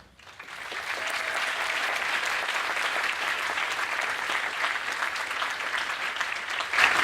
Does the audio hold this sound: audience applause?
yes